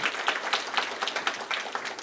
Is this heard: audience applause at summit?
yes